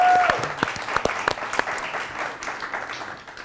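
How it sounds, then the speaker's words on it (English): An audience at a live comedy show applauds the camera and lighting crew, with sparse individual claps standing out over a thinning patter that fades toward the end, as a voice briefly speaks at the start. "So give a big round of applause."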